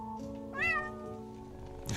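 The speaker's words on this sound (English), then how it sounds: "Pluto, the cat's name was Pluto, was a remarkably large and beautiful animal, entirely black" A single clear meow from a large black house cat, rising then falling, close and fairly quiet, with no other voices.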